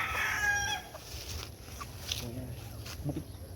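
A rooster crows briefly at the start, followed by scattered soft clucks from gamefowl chickens over a low rumbling background.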